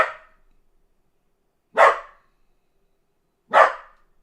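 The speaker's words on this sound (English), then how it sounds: "Maxie, stop the barking." A dog named Maxie barks three times, each bark sharp and loud, separated by pauses of about two seconds, close by in an otherwise quiet room.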